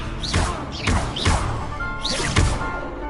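Spell effects in the Hogwarts Legacy video game, a Levioso cast amid a rapid duel: a rhythmic series of four or five loud whooshing thuds and impacts, roughly every half second, over a busy game background with no talk.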